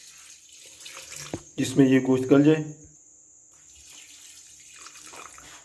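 Water poured into a cooking pot holding beef and cauliflower, a brief splashing burst partway through, with soft background hiss and a voice speaking over parts of it.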